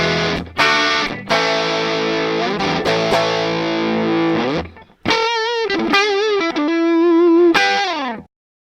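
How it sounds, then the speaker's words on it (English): An electric guitar plays heavily distorted chords and sustained notes through Reaper's stock JS distortion plugin, loud and close, with a short pause before a second phrase of ringing, gritty held notes. "This provides the majority of the distortion."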